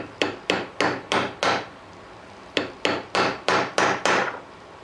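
Two quick runs of metal hammer strikes drive a seal into place with a 12mm socket used as a driver, five sharp blows each with a short pause between, close and loud with no talking.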